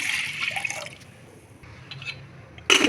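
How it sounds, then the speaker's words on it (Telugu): A glass of water poured into a pressure cooker holding washed toor dal gives a short splashing gush, then quiet drips and trickles, before a sharp loud clatter at the end. "ఒక గ్లాస్ నీళ్ళు పోసేసుకొని"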